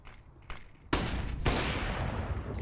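Gunfire bursts in a professional Counter-Strike match at a BLAST Pro Series event, loud and dense rapid shots breaking out suddenly and sustained, with a second burst layered on top.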